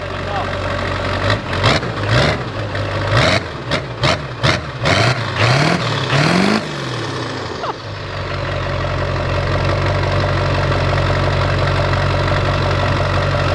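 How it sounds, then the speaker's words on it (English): A Chevy Duramax diesel engine revs in a run of sharp, close bursts, then settles into a steady, rumbling idle that holds loud to the end. "Hey, what's that Duramax do?"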